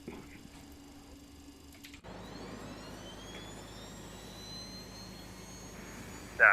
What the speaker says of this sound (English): let's go ahead and fire the APU